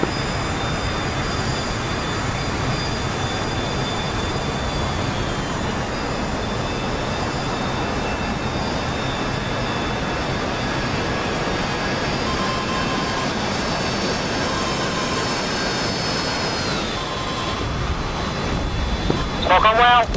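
A jet aircraft roars low over a runway in DCS World, a steady loud engine whine with a falling pitch shift partway through and louder rumble near the end, while people talk over it.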